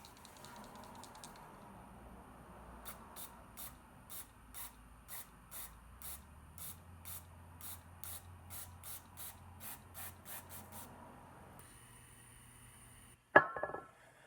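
Mass airflow sensor cleaner sprays onto a Mercedes-Benz C55 AMG W203 secondary air pump part in a long series of short, even hissing bursts, followed by a sharp clunk at the end.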